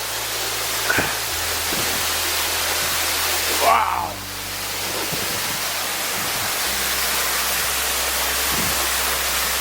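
A winter waterfall at Beede Falls, a steady loud rushing roar of falling water throughout, with a brief exclamation and footsteps or movement near the start and middle.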